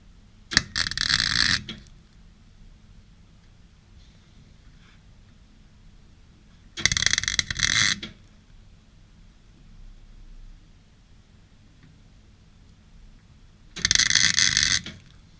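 A welder tack welds brace bars on a 1970 VW camper bus without gas, making three separate bursts of harsh crackling buzz, each about a second long, with quiet gaps between them.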